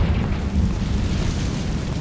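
A deep, rumbling blast from the Confringo fire spell in the Hogwarts Legacy video game, a loud sustained low roar filling the whole moment with no voices over it.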